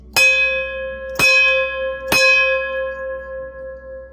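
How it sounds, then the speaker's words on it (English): A bell struck three times at roughly one-second intervals, each strike a bright metallic clang that rings on with a sustained humming tone, loud and close. "Can't remember if we rang the bell."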